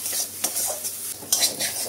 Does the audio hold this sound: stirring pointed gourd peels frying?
yes